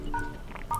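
Keypad tones sound on a V-Mobile S39 phone as a secret code is entered, a few short, clear beeps spaced unevenly, close and moderately loud.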